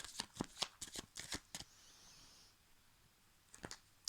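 A deck of tarot cards is shuffled close by with quick flicking riffles, a short soft slide, then a pause and a few more flicks, with no talking.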